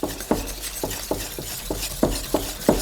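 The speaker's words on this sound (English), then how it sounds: "now I'm gonna mix it up" Chocolate chip cookie dough waffle batter with egg being mixed in a bowl, heard as close, regular wet slaps and taps of the utensil, roughly a dozen strokes, with no voices.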